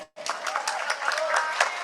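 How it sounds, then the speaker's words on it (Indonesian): Audience applause breaks out after a short silence at a public event where the agriculture minister is present, a dense steady wash of clapping that carries on at moderate level with some voices mixed in. "Tepuk tangan untuk Pak Menko."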